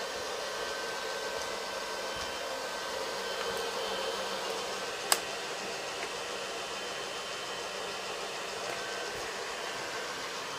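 A steady, faint whirring hum of a blow dryer runs continuously throughout, with one brief click partway through.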